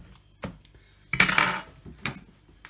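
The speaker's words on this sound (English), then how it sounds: "And then we're going to sort of put little holes down the edge of the pot noodle." Fork pokes into a pot noodle lid: a few sharp, close taps and scrapes, with one longer crinkly scratch, separated by quiet gaps.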